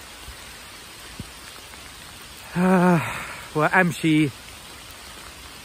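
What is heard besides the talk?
heavy rain falling while walking outdoors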